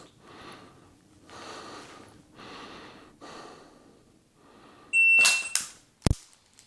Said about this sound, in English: had to fire a makeup shot